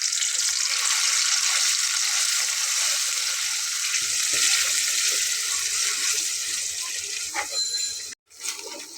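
Spices and black cumin sautéing in hot oil, a continuous close hiss of frying with a few soft scrapes, briefly cut off near the end before resuming.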